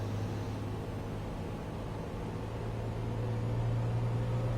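Propeller aircraft in a flight simulator game drones as a constant low hum, with a steady engine tone under faint broadband noise throughout.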